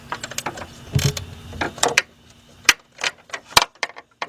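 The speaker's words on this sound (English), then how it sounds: "I'm going to try my 3/8 drive ratchet" A 3/8-inch drive ratchet works on a car engine, giving a series of close, sharp clicking ticks in irregular short bursts, with no talking.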